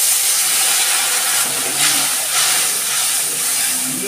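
Water splashed onto hot spices in a pan — dried red chilli, cumin seeds, bay leaves and turmeric — giving a loud, steady steam hiss that fills the whole stretch.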